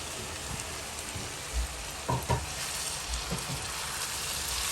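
Prawns sizzle in hot oil as they drop into a biryani pot with chicken, a dense, steady hiss of frying with a few soft clunks and stirring bumps, close and unbroken.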